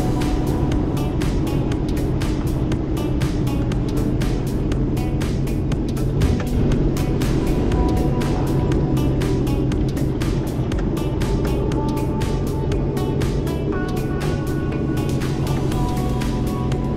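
A jet ski's engine runs steadily as it is driven up onto a trailer, a continuous loud motor drone with a wash of water and rumble throughout, no voices.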